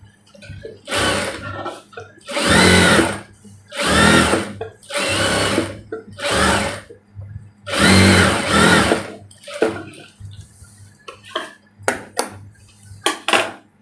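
A sewing machine stitches the neckline of a kameez in several loud bursts of rapid whirring, each lasting about a second, separated by short pauses and faint handling clicks.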